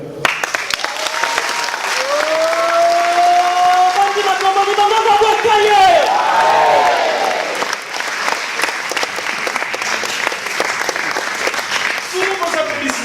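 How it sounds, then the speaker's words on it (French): Audience applause and cheering fill a live concert performance, a steady dense clatter of clapping with a voice singing or calling over the crowd before the noise thins out. "Sous vos applaudissements."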